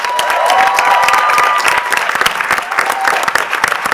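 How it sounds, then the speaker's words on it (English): A crowd at a women leaders' forum in Reykjavík applauding steadily, dense clapping with a few cheers and whoops, close and loud for the full few seconds. "a huge round of applause for them,"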